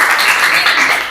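Classroom applause for a student group after their presentation, a brief steady patter of many hands clapping at moderate loudness.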